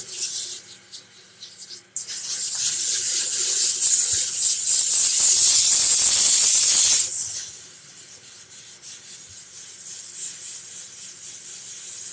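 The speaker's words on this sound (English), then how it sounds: "When we're sanding spindle, we can go a little bit faster." Steady, loud abrasive hiss of sandpaper against a wooden spindle spinning on a lathe, starting abruptly and running several seconds before easing to a softer whir.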